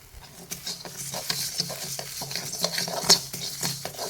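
Nigella seeds and fenugreek are dry-roasted in a pan for a homemade herbal hair-dye powder. A spoon scrapes in repeated stirring strokes against the metal close by, with a light sizzle and grainy patter of seeds.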